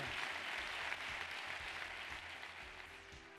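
Audience applause at the Cannes Film Festival greeting the festival president, a dense, steady wash of many hands clapping throughout, fairly distant and even, thinning slightly toward the end.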